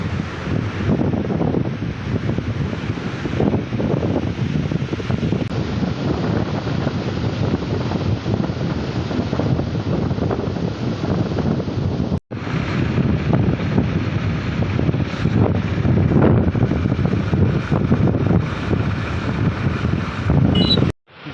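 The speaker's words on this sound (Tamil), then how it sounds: "அலையும் ரொம்ப அடிக்குது" Strong waves at a beach in Murud, India, roaring steadily for the whole stretch, with heavy wind buffeting the microphone and one brief dropout partway through.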